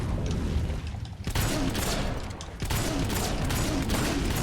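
Rapid bursts of gunfire in the Fable 2 video game aimed at an undead enemy, loud and dense, with a brief lull before the shooting resumes and continues steadily.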